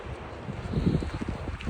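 Low, gusty wind buffets the microphone in a steady rumble by a gorge on the W Trek in Patagonia, Chile, fairly quiet and with no voices.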